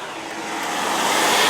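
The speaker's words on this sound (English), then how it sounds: "Yeah, there's loads of traffic." Rush-hour road traffic near a roundabout on Bagshot Road, a broad steady rushing roar of passing vehicles that swells gradually louder over a brief moment, heard without talking.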